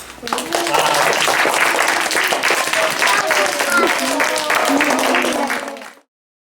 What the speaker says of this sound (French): Est-ce qu'on applaudit le spectacle?